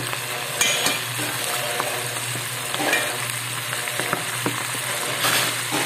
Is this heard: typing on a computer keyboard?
no